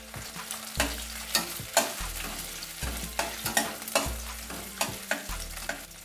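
Garlic, ginger, onion and green chillies sizzle in three spoons of hot oil for cauliflower Manchurian, while a spatula scrapes and stirs in a steady rhythm with regular clanks against the pan, close by and with no talking.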